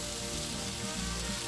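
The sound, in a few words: mushrooms and garlic frying in a pan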